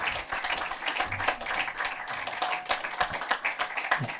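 A Frankfurt audience applauds as a film director steps onto the stage, steady close clapping from many hands continuing evenly throughout at a moderate level.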